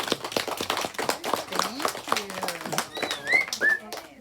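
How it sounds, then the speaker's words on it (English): Audience clapping after a reading of the children's book "The Invisible String," a dense run of claps mixed with chatter and a few high voices, steady for several seconds and close by. "Crowd goes wild."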